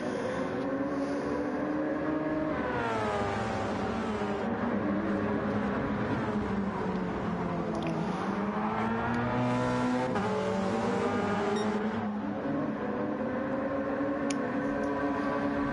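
A Porsche 919 race car engine in a racing video game at the Nürburgring, a loud continuous howl climbing and dropping through gear changes, engine pitch sweeping up and down steadily over the whole stretch.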